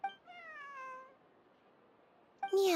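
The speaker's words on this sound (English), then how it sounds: "Is that Lynette with a little kitty?" A small cat in the video game Genshin Impact gives a clear, drawn-out meow, then a short pause, then the start of a second meow at the end, close and distinct over a quiet background.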